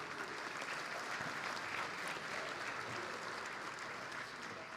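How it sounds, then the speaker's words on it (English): An audience at a military conference keynote applauds, a dense, even wash of clapping that stays steady and moderately distant for the whole stretch without voices over it. "please join me in a round of applause for Lockheed Martin and all of the"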